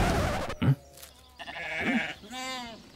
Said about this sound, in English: Comes everyone's favorite farm animal, Shaun the Sheep.